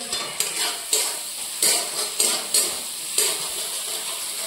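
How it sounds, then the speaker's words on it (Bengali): Spice paste frying in hot oil while being stirred, a steady close sizzle punctuated by about seven sharp scrapes and clinks of a spoon against the pan at an irregular rhythm. "এই দেখো সুন্দর মশলাটা কষানো হয়ে গেছে"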